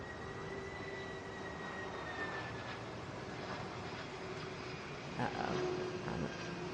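Airbus A321 airliner on Flight 2825 to Minneapolis, a faint, distant steady engine drone with a slowly gliding whine, heard from an airport spotting spot; no talk.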